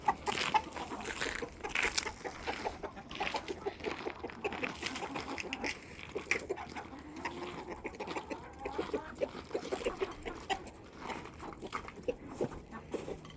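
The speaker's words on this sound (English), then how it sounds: "We're gonna let the chickens out this morning." Chickens clucking and squawking on a farm in the morning after being let out of their coop and fed defective eggs, several birds busy and close, with scattered calls and shuffling over a steady bustle.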